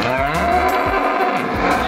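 A cow moos in a long, loud, sustained low bellow that fills the whole moment, with no voices over it.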